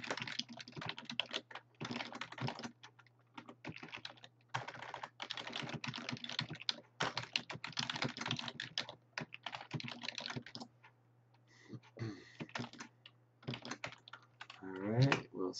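Rapid bursts of clicky keystrokes on a computer keyboard while a simple Java program is typed, close and continuous with short pauses between runs and a few soft mouse clicks near the end.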